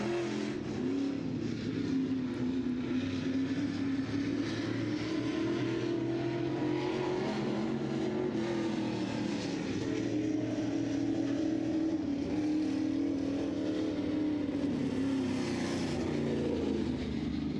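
A late model race car engine drones loudly and continuously during a qualifying lap at the Brett Reaume Memorial Race, holding a steady pitch from a moderate distance, with no commentary over it.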